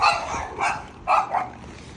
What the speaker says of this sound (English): Neighbor dog is barking at me.